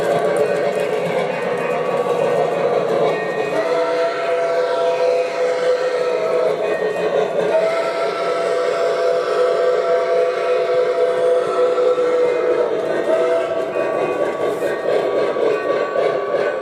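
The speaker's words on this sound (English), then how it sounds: "we're gonna watch the train comes through Winslow Junction" A train passing through Winslow Junction, with long, sustained whistle or horn tones riding over a steady rolling rumble that lasts the whole stretch.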